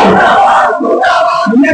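Rally crowd at a political gathering in Chittagong chanting slogans in unison, loud and close, a dense mass of voices rising and falling in a steady rhythm.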